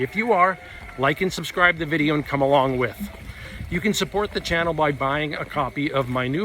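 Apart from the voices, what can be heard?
No distinct noise like a dog, phone or traffic.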